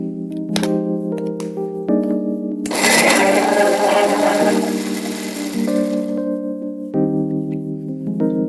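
Mixer grinder whirring in short loud bursts while grinding coconut for a homestyle chicken curry, with a strong steady motor hum between pauses, close by.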